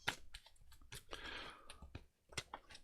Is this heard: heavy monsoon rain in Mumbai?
no